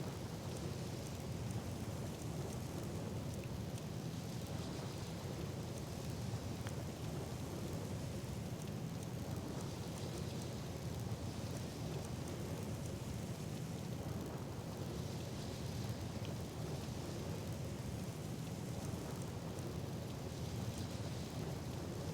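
Low rumbling storm noise with rain-like hiss rolls on steadily from a Lightning Surge spell in the video game Skyrim, no voices over it.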